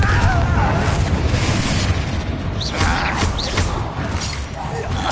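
Fire spell Confringo exploding in the video game Hogwarts Legacy, a loud, sustained booming roar with crackling bursts that continues steadily throughout.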